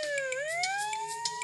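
Ambulance siren from a kids' video game, a cartoonish wailing tone sliding down then rising again, loud and close, with small bright game sound effects popping in over it.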